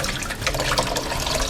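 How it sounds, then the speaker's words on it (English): Running tap water pours steadily over eggs being rinsed in a kitchen sink, a close, continuous splashing stream with no talking. "now I will rinse under running water"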